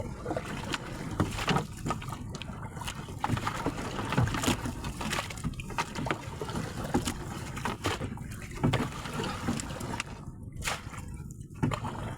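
A boat motor drones steadily throughout, mixed with wind buffeting the microphone and splashing water, with no clear pauses.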